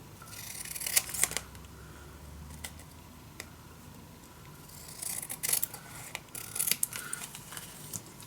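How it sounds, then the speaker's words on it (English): Scissors cutting paper pieces for a steampunk mini album, with several clusters of close crisp snips and slicing rasps separated by quieter rustling handling, no talking. "now I just gonna cut already some pieces so I can reuse them"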